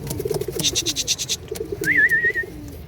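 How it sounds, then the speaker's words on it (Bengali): Pigeons on a pigeon farm coo softly in repeated low, rolling calls, with a few sharp high chirps and a short whistled trill from another bird nearby. "দেখেন কবুতরগুলো খুব চমৎকার"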